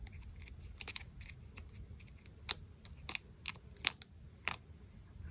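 A die-cut edge is peeled and torn away from a thin sheet, producing quiet crisp crackles and short tearing snaps in irregular bursts against a faint low background hum.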